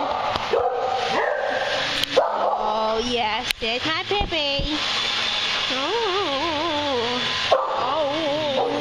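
A dog nearby at a doggy daycamp yips, barks and whines in short excited bursts while a person speaks affectionately over it.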